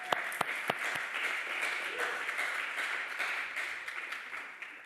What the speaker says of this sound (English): I'm going to be giving you guys a round of applause